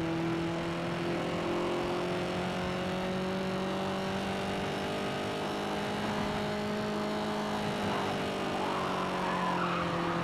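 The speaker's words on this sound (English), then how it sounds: "So we're gonna see how this car goes in the gravel." A Corvette Stingray driven over gravel in the racing game Gear Club: a steady engine drone with layered harmonic tones and a continuous gritty rumble of tires on loose surface, loud and unbroken for the whole stretch, with no talk.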